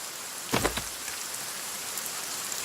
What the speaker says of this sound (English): Whoa, it's raining hard.